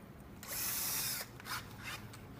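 A power drill tightens aluminum screws on frameless glass trim, a short whirring burst followed by briefer grinding spurts, fairly quiet and close with no talk.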